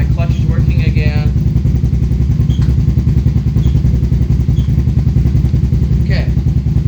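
A dirt bike engine runs loud and close with a steady, throbbing idle that holds throughout, while someone speaks briefly over it.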